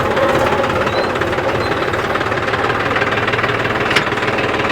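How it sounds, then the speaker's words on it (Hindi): A tractor engine runs steadily in high first gear in two-wheel drive, pulling a large cultivator with long tines; a loud, continuous rough diesel chug with knocking texture, close by and without talk. "ये दोस्तों हाई के पहले में ये ट्रैक्टर चल रहा है 2 व्हील में"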